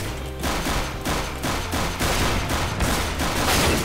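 Rapid, loud bursts of Five-Seven pistol fire in the video game CS:GO crack out repeatedly with a steady rhythm across the whole stretch, dense and close with no talk.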